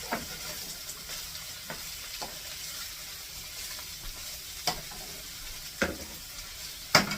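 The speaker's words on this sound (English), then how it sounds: "we're going to take all those peppers and onions and put them in there. And we're going to get those cooked down a little bit." Peppers and onions sizzling in a pan for fajitas, a constant close hiss of frying broken by several sharp scrapes and clacks of a utensil stirring, with no talking.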